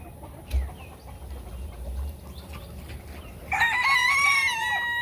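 A rooster crows once near the end on a chicken farm, loud and close, after several seconds of low rumbling farmyard background with faint bird calls.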